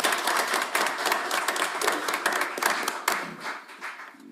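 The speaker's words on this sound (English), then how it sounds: "Now we can clap." Council members clap together at a regular council meeting, a dense, steady burst of hand claps close by that thins out toward the end.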